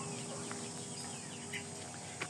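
Shamo, Indio Gigante and Piru chickens cluck softly and intermittently amid a steady, busy outdoor background hum, with a couple of brief calls standing out.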